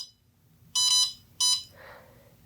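Electric kiln controller alarm sounding as two short, bright electronic beeps in quick succession, fairly loud and close, followed by a brief softer tone, with no talk over them.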